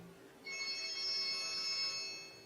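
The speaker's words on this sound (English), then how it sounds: "Answer your phone." A telephone rings alone in a quiet room, a bright, steady electronic trill that starts abruptly and holds for about two seconds before fading slightly.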